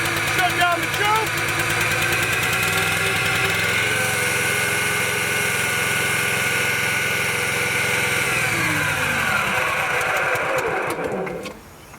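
Small engine on a truck running steadily after being started with the choke shut, a loud, even buzzing drone with a fast rattling beat that cuts off abruptly near the end.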